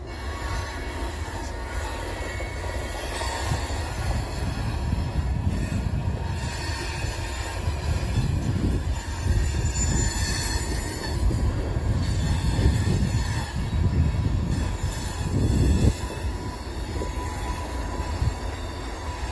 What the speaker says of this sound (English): Got train over here moving.